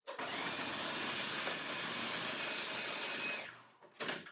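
A food processor pulsing raw cauliflower into rice: a steady, close whirring motor roar for about three seconds that cuts off, then a short second burst, with no talk.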